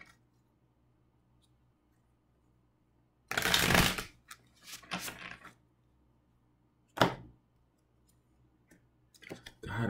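Tarot cards being shuffled and drawn, with a loud riffling burst, a few softer shuffles, a sharp snap, then more card handling, close with quiet gaps between.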